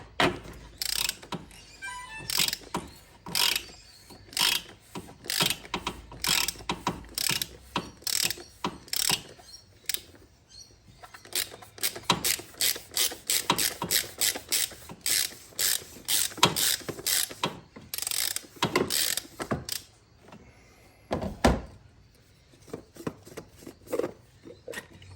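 A ratchet with a 32 mm socket clicks rapidly in repeated bursts while loosening the oil filter cap on a 2016-2019 Audi Q7 3.0 TDI turbo diesel engine. The clicks are close and sharp, with short pauses and no talk.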